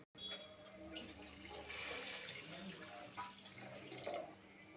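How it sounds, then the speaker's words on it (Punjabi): Water pours steadily into a cooking pot of sugar for syrup, a continuous close-up rushing splash that runs for several seconds without a break. "ਤੇ ਦੋ ਕੌਲੀਆਂ ਆਪਾਂ ਪਾਣੀ ਦੀਆਂ ਪਾ ਦਾਂਗੇ"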